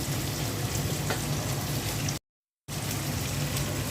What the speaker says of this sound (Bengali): মাংসটা ভালো করে কষিয়ে নিচ্ছি